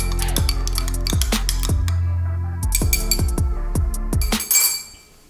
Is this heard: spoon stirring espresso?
yes